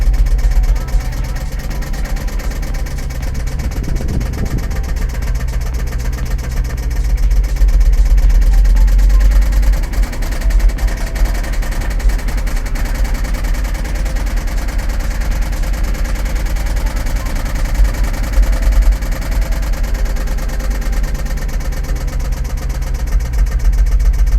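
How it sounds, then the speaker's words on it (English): A Jaguar car engine idles continuously with a deep, uneven rumble and a ticking, clattery exhaust edge, loud and close throughout; the fuel system had sugar in the tank. "That's got some nice sounding exhaust, but dang, why does it gotta be so clacky?"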